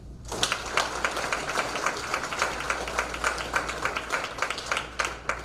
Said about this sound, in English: Let's give all of our seniors a round of applause.